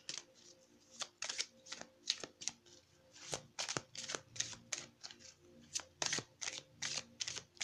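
Tarot cards are shuffled by hand, a run of crisp riffling bursts and soft slaps in an irregular rhythm, close and fairly quiet with no talk.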